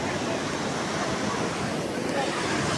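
Sea waves at Ganpatipule beach wash in as a steady broad roar of surf, mixed with wind buffeting the microphone, loud and continuous across the whole stretch.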